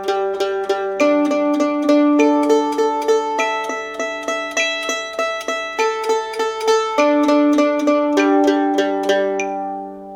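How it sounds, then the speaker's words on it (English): Steady mandolin downstrokes, four on each string, walking from the low string up to the high string and back, ringing loud and close in an even, unbroken rhythm. "it's going to be is 4 downstrokes on each string, working your way from the low string to the high string"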